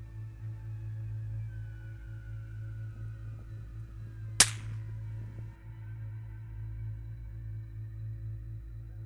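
A single sharp rifle shot fired at a wolf at a bait site, one loud crack with a short ringing tail over a steady low hum of outdoor background noise.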